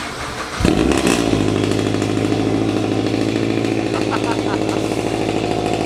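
A muscle car engine starts and revs loudly nearby, then settles into a rough, burbling idle with uneven pulses.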